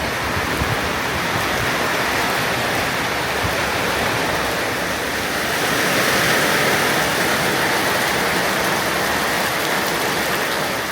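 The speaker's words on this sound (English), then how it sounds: "Well, looks like the rain caught up to me." Steady rain pours down beside a road on Lombok in Indonesia, a dense continuous hiss holding at an even, fairly loud level throughout, with no voices.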